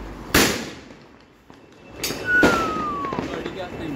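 Firecrackers burst during outdoor Diwali celebrations: a few sharp loud bangs and pops, one with a whistling streak, heard over background chatter and crowd noise.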